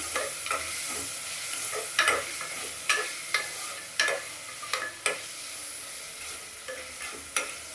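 Tomatoes with salt and turmeric being stirred in a pan, a spoon scraping and tapping the metal in an irregular rhythm over a faint sizzle, close and moderately loud with no talking.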